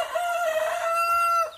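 A native rooster crows once, a loud close call held steady for over a second before tapering off, alone with no talk.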